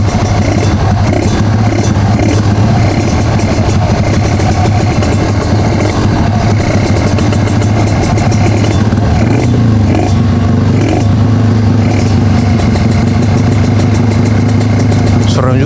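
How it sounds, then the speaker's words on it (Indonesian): A motorcycle engine runs loudly and continuously close by, with a deep steady idle, occasional rises in revs and people talking underneath. "tapi lebih ngebas suara motornya"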